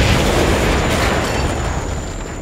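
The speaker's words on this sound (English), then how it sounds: "Oh crap, grenade! Look out!" A grenade blast from the stealth-action game Splinter Cell: Conviction: one loud, broadband boom that fills the whole stretch, with a low rumble that slowly fades away and no talking over it.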